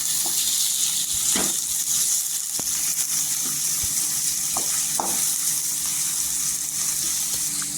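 Two or three sliced onions sauté in hot oil in a pan for a Maharashtrian peas-and-potato curry, a soft continuous sizzle with occasional stirring scrapes and clinks, close and alone.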